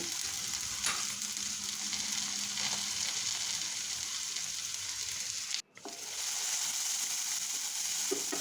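Onion with garlic paste, ginger paste and salt frying in hot oil for katla fish kosha, a loud, steady, close sizzle that continues throughout apart from one momentary dropout.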